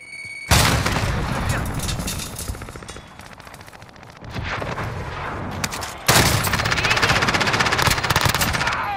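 A fragmentation grenade is thrown and explodes in a console shooter, with a sudden loud blast standing out among dense, continuous automatic gunfire. A second heavy burst comes later, and the whole stretch stays loud and close.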